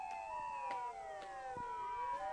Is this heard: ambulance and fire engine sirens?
yes